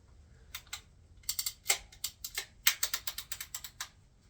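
A rear bicycle derailleur on an older bike clicks through the gears, giving a run of sharp, close mechanical ticks in quick irregular bursts with brief pauses, with no talking over it.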